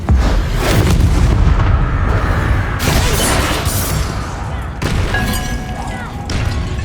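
Confringo spells in Hogwarts Legacy set off a run of heavy explosive blasts and crackling bursts over several seconds, loud and close, with sharp new impacts breaking in along the way.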